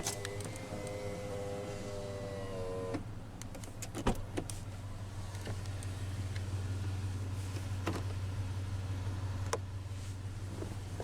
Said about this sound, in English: let's go ahead and roll down the driver's window and take a look at the engine bay. The driver's window is automatic down.